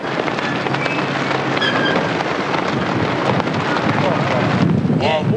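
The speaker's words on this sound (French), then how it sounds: "Vous entendez le vent." Steady wind rushes and buffets the microphone throughout, with faint voices and scattered clicks underneath.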